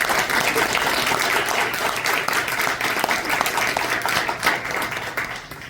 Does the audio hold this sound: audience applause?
yes